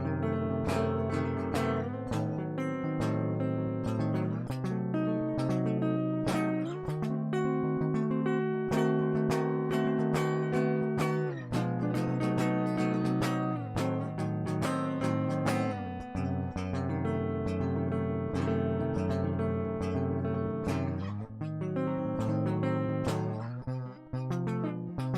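Dense diminished barre chords on a guitar's lowest four strings, struck repeatedly in a steady strumming rhythm with a sustained full tone, loud and close, alone without talk.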